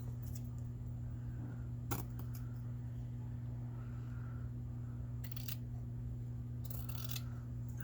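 Scissors trimming fabric for a hard cover journal, a few short quiet snips spread apart over a constant low hum, with no voices.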